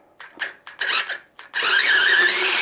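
A mini manual vegetable chopper minces garlic with a few short, scratchy rasping bursts, then one longer continuous grinding whir close by.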